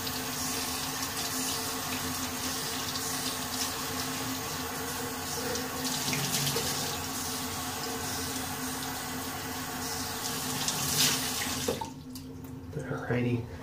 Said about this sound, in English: Rinse off with cold water.